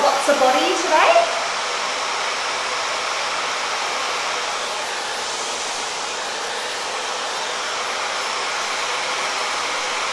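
A hair dryer set to low warmth blows steadily and loud for the whole stretch, a constant broadband rush after a brief bump at the start, used to dry curly hair.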